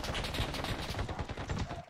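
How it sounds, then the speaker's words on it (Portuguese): Rapid gunfire in the mobile battle royale game PUBG New State Mobile, a dense, continuous rattle of repeated shots filling the whole moment, loud and steady without a break. "Atirando em outro."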